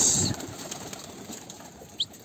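A short burst of wing flapping at the start as a pigeon takes off, then a quiet outdoor hush broken by one brief high chirp.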